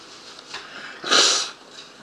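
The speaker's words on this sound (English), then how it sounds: "blow my nose too" A single short, forceful nasal blow bursts out after faint sniffing, close and brief.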